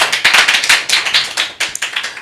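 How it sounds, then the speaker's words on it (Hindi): A small audience at a church testimony gathering bursts into brisk, close applause. It is loud and uneven and lasts a couple of seconds, with no talk over it. "ताली बजा दीजिए।"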